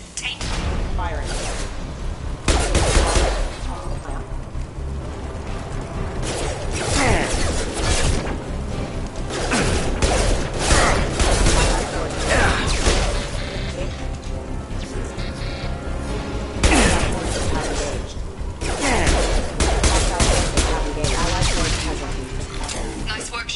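Sustained gunfire from Shepard's weapon in Mass Effect as security mechs close in, a dense stream of sharp shots and impacts running steadily at close range throughout.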